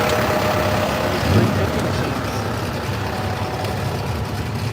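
Racing four-wheelers with 350 engines roar at a track in a steady, loud, dense drone that swells briefly near the start and then holds, with no talking.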